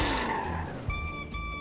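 A Lamborghini Veneno brakes and skids in BeamNG.drive, its tyres squealing loudly against a rumbling engine, then a sharp thump and a sustained high tonal screech as the car slides.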